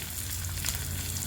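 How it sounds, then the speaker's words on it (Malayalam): Spices and bay leaves frying in a pan, a steady close sizzle with fine crackling spread evenly from start to finish, no voices over it. "ഇത് ജസ്റ്റ് ഒന്ന് ഫ്രൈ ചെയ്താൽ മതി, കരിഞ്ഞു പോകരുത്"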